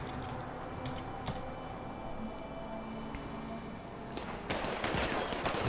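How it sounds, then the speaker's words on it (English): Two armed characters fire at each other in a modded GTA game scene, a sustained rattle of rapid gunshots and bursts, growing louder and denser toward the end, with no speech. "You see they're both firing."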